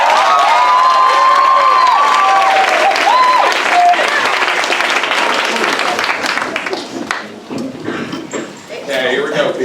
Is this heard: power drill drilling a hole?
no